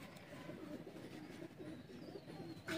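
Teddy pigeons on a rooftop loft give soft, low cooing and faint bird calls that run steadily through the clip at moderate distance, with no talk.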